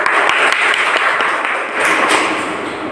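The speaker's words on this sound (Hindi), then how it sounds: "आप सभी के लिए धमाकेदार ताली।" An audience at a direct-selling training event applauds in a loud, dense wash of clapping with a few sharper thuds, sustained close-up for a few seconds.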